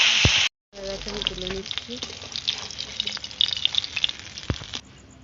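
Fish pieces coated in turmeric frying in hot oil in a wok, with fish being cut (ফ্যাসা) and eggplant in the recipe; a steady sizzle after a brief gap, with scattered clinks and a short spoken phrase over it.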